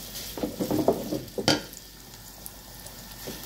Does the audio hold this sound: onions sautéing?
yes